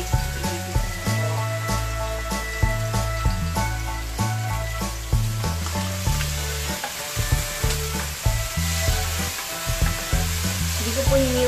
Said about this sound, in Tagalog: So, yung bawang, sibuyas, kamatis, ibigisa na ito.